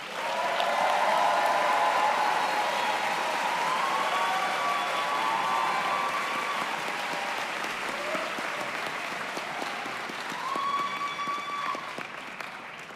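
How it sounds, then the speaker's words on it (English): Sustained audience applause for Master of Public Administration graduates at a Brooks School graduation ceremony, broad, even clapping from a large crowd with a few whistles and cheers rising over it. "join me in a round of applause for our Executive Master of Public Administration and Master of Public"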